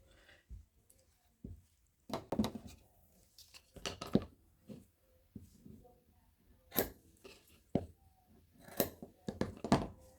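Scissors snip fabric while trimming a lined eyeglass case, close, irregular clusters of sharp clicks and cuts separated by quiet pauses, with some soft handling noises.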